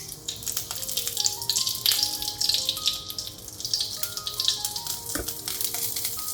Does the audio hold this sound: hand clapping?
no